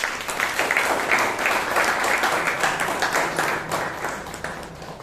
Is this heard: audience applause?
yes